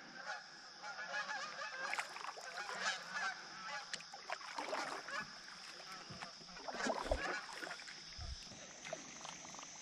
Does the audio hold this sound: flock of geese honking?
yes